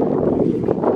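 Steady wind buffets the microphone at a beach picnic at Bagan Lalang, a continuous rumbling roar with gusts and no pauses.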